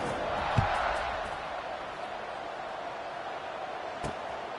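Stadium crowd at a football game as the teams line up for a kickoff, a steady broad roar of many voices with a couple of sharp thumps, moderately loud throughout.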